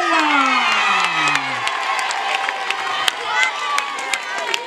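A crowd applauds at an outdoor prize ceremony for a neighborhood palio contest, steady dense clapping filling the space with scattered louder claps and some cheering after a brief sliding tone at the start.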